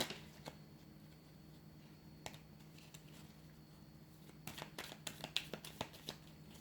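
A deck of tarot cards is shuffled nearby, with soft riffling and crisp flicks that grow busier and snappier toward the end.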